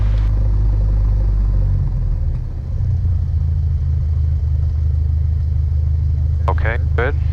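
Small airplane engine idling with the throttle pulled back, a loud steady low rumble that settles to a lower drone, with brief cockpit chatter near the end.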